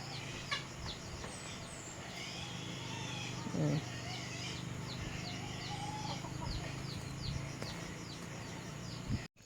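Chickens cluck steadily on a farm while a rooster courts a hen, the clucks repeating close by over constant outdoor background noise.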